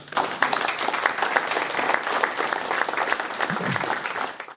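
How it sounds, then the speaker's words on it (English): Hamfest audience giving a round of applause for the volunteer team leads, a dense, sustained wash of clapping from a sizable crowd that fades out at the end. "I just ask for a round of applause for all of them"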